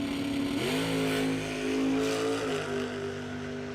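A drag race car making a solo bye run on the right lane at the Capitol City Classic, a loud engine whine that climbs sharply in pitch then holds steady before easing slightly, heard from a distance and without talk.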